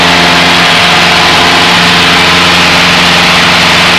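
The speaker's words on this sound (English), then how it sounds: "This airplane has a very powerful engine." A small private training airplane with a powerful engine and climb prop, climbing out after takeoff at high power: a loud, steady, close droning roar that holds unchanged throughout, with no voices.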